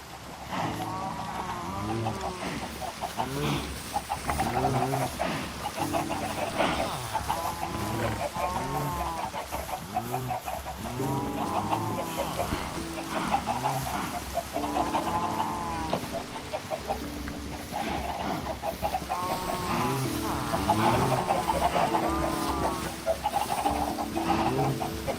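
Chickens cluck in Minecraft VR: repeated clucks and short squawks from several birds, rhythmic and overlapping, continuing at moderate volume throughout with no talking.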